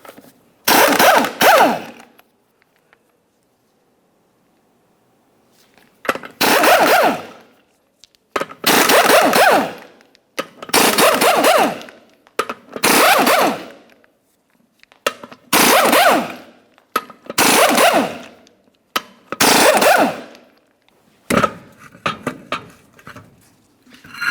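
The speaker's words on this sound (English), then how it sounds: "we'll continue on to removing all 8 of our 24mm lug nuts and then the wheel" An impact wrench removes 24mm lug nuts from the rear wheel of a 1994-2002 Ram 2500, firing in repeated loud rattling bursts of a second or two each, separated by short pauses between nuts.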